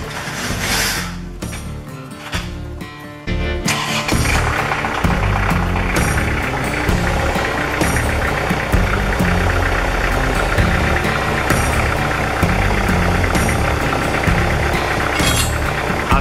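A tractor engine runs steadily and loudly at close range while it lifts a car motor with a set of forks during a Nissan 240SX S13 drift build, giving a continuous rumbling drone with a rougher start and no talking.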